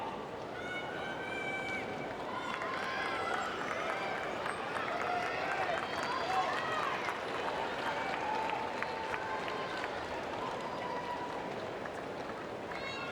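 A tennis crowd at a men's singles quarterfinal of the Apia International applauds steadily, a dense wash of clapping and cheering that carries on for the whole stretch with voices mixed in.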